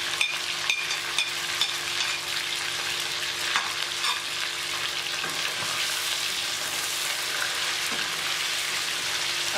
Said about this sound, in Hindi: देखिए चिकन फ्राई हो गया और इसका थोड़ा सा कलर चेंज हो गया।